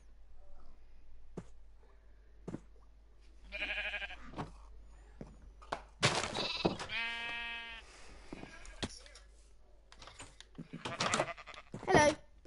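Sheep in a Minecraft game bleat several times, with bursts of harmonic bleating near the middle and later, scattered among sharp clicks and thuds, with brief voice-like sounds mixed in.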